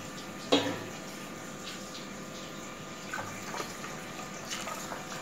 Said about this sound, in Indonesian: itu harus dicuci bersih botolnya, lalu disiram pakai air panas supaya lebih steril ya